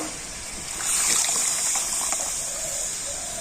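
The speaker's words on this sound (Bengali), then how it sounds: "আর এই বাটি মাপ করে আমি দিয়ে দেব এক বাটি জল" Water is poured into jaggery in a kadai for Joynagar moa, a soft rushing gush that swells after a second and keeps running as a close, steady splash and hiss, with no talk.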